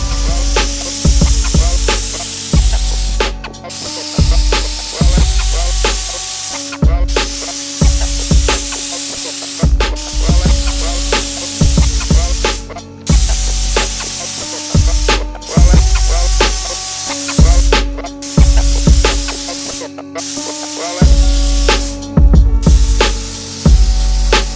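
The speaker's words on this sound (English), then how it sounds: "let this dry and then shoot one last coat" A spray gun lays clear coat onto a car valve cover in about eight loud, hissing bursts, each roughly two to three seconds long and separated by short pauses. The sound is close and steady, with no talking.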